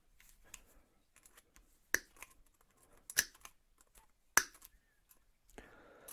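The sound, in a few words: cutting the outer wire off an 8x8 wire mesh piece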